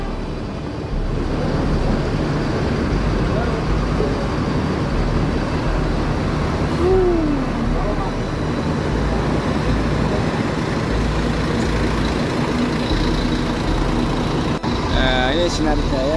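A Sinar Jaya bus pulls into a shelter, its low engine rumble and road noise steady and fairly loud throughout, with a brief hiss and a tonal squeal near the end while someone talks over it.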